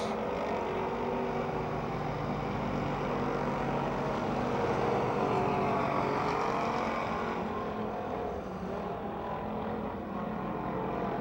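Amateur stock cars race around Pennsylvania Motor Speedway, a steady, loud drone of several engines roaring past together with no letup, the sound of a full field lapping near the end of the race.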